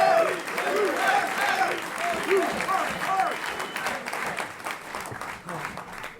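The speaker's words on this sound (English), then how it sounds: "Can we give her one more round of USA applause?" An audience applauds with sustained clapping and some cheering from a crowd, steady and fairly loud throughout.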